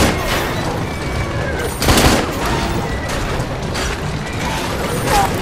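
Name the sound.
gunfire in the video game Assassin's Creed Syndicate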